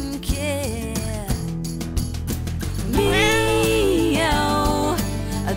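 A barn cat meows several times, drawn-out and wavering, loud and close, with a longer plaintive yowl in the middle.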